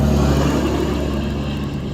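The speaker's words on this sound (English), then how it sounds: "I have my windows open. It's a pretty day outside, and there's trucks everywhere apparently" Trucks pass outside an open window on a pleasant day, a low continuous engine rumble that fades slightly over two seconds, with no voices.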